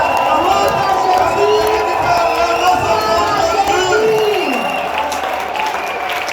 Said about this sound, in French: Est-ce qu'il y a quelqu'un qui peut pousser des cris de joie?